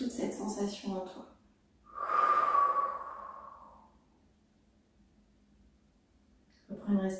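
A long, slow exhalation during a sophrology breathing exercise swells up and fades gradually into quiet, framed by a calm voice speaking before and after.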